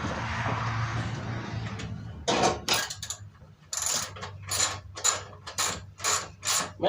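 A ratchet wrench with a 9/16 socket tightens a bolt while swapping an MTD motor onto a mower deck, first a rough rubbing, then a close run of sharp, evenly spaced clicks from repeated strokes.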